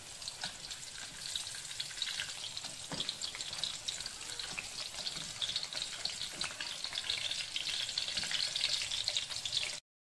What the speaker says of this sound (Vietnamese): bây giờ mình đi chiên bí. Mình bỏ bí vào mình chiên này